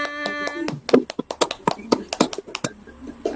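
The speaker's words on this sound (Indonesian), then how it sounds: "Tepuk tangan." A group of people claps hands together in a classroom quiz game, bursts of claps mixed with brief talk and loud, close.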